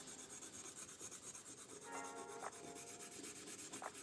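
Close, quiet rubbing as a knife finger guard is hand sanded with abrasive fleece, steady back-and-forth strokes with a few sharper scrapes, no voices.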